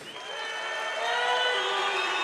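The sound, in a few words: fight crowd cheering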